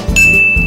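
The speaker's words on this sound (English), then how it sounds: "Click the notification bell." A notification bell sound effect gives a single bright, high ding that rings on steadily and clearly above a low, rumbling background.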